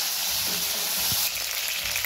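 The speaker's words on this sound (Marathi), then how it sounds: "तेल गरम झाले बघा, ह्यात आता टोमॅटो टाकूया बघा। चांगलं परतून घेऊया टोमॅटो।" Tomatoes drop into hot oil and fry with a loud, dense sizzle and crackle, a short stirring thump partway through, close and continuous with no speech.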